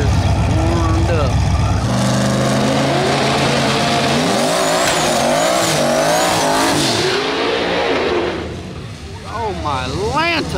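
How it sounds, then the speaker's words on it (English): Race car doing a burnout at the track to warm its tires, a loud roaring engine rising and falling in pitch with harsh tire squeal and skidding, and people's voices heard over it near the end. "Started off with a nice, spicy little burnout. Get them tires warmed up."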